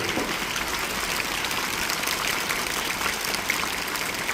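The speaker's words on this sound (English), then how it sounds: "Please give them, all the students and parents, give them a big hand, please." Parents and students at a convent school program give a big hand, a steady hiss of many clapping hands from a sizable crowd, even and sustained with no talk on top.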